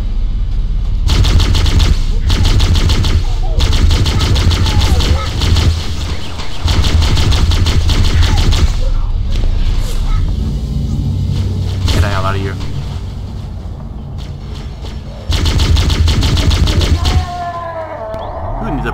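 Rapid bursts of plasma pistol fire from Halo: Combat Evolved, loud repeated volleys in clustered runs with short gaps, mixed with other game effects and engine-like rumble.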